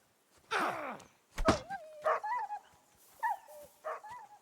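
A dog in Kingdom Come: Deliverance II gives a few sharp barks and whimpering yelps, close by, with a heavy thump in between and no talk.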